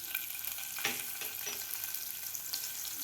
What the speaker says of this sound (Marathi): जिरे, मोहरी, हिंग आणि कढीपत्ता. व्यवस्थित आपल्याला हे फ्राय होऊ द्यायचं आहे.